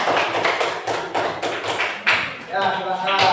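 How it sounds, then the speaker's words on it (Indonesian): A class of primary school pupils claps hands in a classroom, a loose burst of slaps with teacher's voice and chatter mixed underneath. "ada tepuk tangan"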